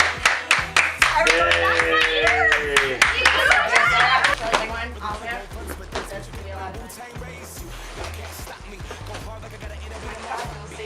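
Guests at a sweet sixteen party clap in a quick rhythmic burst under loud voices, then the claps thin out and fade toward the end.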